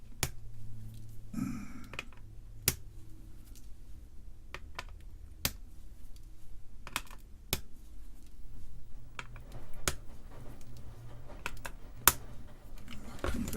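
Sharp, isolated snips of flush cutters trimming component leads on a freshly soldered circuit board, about a dozen crisp clicks spaced irregularly over a quiet room hum.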